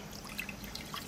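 Water, about five cups, is poured into a fairly large saucepan, a faint, brief trickling splash with light dripping detail, heard alone.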